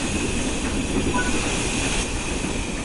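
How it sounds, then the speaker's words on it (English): A train comes to a halt at a station under its combination brake, heard as a steady, dense rumble with hiss and a faint squeal running through the short stretch. "Close the regulator and gently apply the combination brake to bring the train to a stop at our destination."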